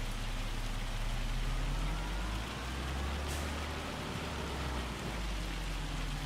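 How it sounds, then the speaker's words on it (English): Steady heavy rain pours in the Farming Simulator 25 video game, a dense, continuous hiss under a low droning hum, unbroken throughout with no talking. "This rain looks more like hail."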